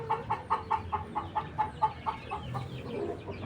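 Backyard chickens let out from their coop in Indonesia cluck in a steady, quick series of soft calls, fairly close but quiet, over faint background noise.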